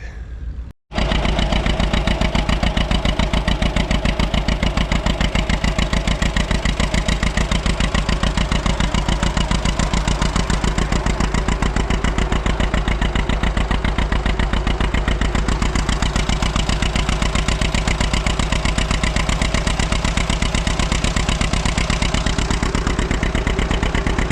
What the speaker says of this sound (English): two-cylinder power right there. You see how that makes the belt jump?